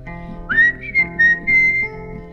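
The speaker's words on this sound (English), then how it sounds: "I cannot whistle, mother, but I'll do the best I can." A person whistles a short wavering tune of several notes, close and clear, with a faint musical backing underneath.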